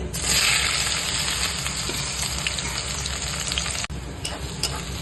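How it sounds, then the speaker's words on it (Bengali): Garlic fries in hot oil with a loud, steady crackling sizzle that briefly dips near the end before carrying on; no one speaks. "রসুনটা দিয়ে দিয়েছি রসুনটা ভাজছি"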